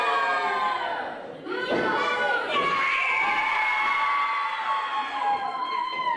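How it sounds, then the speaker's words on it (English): A crowd at a live wrestling show, during a briefcase on a pole match, cheers and screams loudly with high-pitched shouts and whoops, sustained throughout with a brief dip in the middle. "This crowd is excited and red hot here tonight for this briefcase on a pole match"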